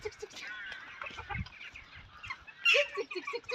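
Hens clucking close by in a Turkish home yard, a string of short irregular clucks and squawks with one louder squawk near the end, over faint background noise.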